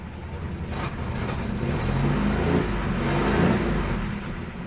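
GAZ 2410 car engine idling quietly without the choke in a warm garage, a steady low rumble up close with a slight swell in the middle, no talk.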